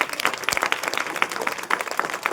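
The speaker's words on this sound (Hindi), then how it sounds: "बहुत ताली बजाओ।" Steady applause from a crowd at a Republic Day speech, many hands clapping densely and continuously at close range without a break.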